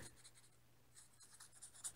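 Fingers tap and scratch on the thin cardboard circuit board of a knockoff Sega six-button controller, producing faint, dry, papery ticks in short clusters close by, with no talking.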